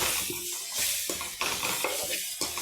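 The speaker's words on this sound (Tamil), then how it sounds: "இதை பாருங்கள், நல்லா வதங்கிட்டு இருக்கு." Food sautéing in a pan, a soft continuous sizzle broken by intermittent stirring scrapes and small clinks of a spoon, fairly close and steady throughout.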